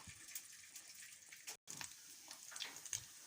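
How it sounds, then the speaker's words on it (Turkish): A tap runs water in a highland plateau kitchen during a power outage, giving a faint, steady hiss with a brief cut-off partway through. "suyu kapatır mısın?"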